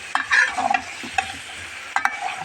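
Eggplant and potato with loitta dried fish are stirred in a sizzling pan: brisk, close spatula scrapes and clacks come in quick bursts over a low sizzle, with no talking.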